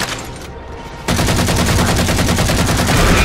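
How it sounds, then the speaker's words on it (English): Assault rifle fire in the video game Halo 4: a loud, sustained burst of rapid automatic shots starts abruptly after a second of quieter game ambience and keeps pounding steadily to the end, with no talk. "Use my assault rifle for the other one."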